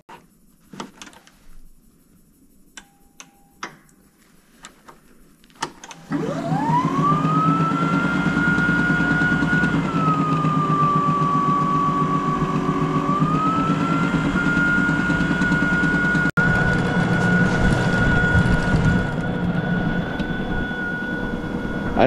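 A Toro PowerMax e26 HA battery-powered electric snow blower, fitted with two batteries, starts up after a few clicks and runs loud and steady with a rising whine, clearing snow on a tar-and-chip driveway.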